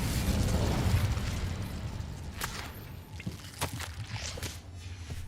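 Incendio fire spell cast in the Hogwarts Legacy video game: a loud, sustained fiery whoosh and rumble that fades, followed by a few sharp crackling pops.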